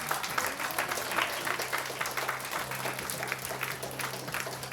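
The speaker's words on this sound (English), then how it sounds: "So can we give ourselves a big round of applause?" Sustained applause from a conference audience, many hands clapping in an even, dense patter heard from a moderate distance, with a faint low hum running beneath.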